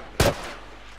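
A single sharp gunshot fires in The Last of Us on PS4, a loud close burst with a short decaying tail and no talk over it.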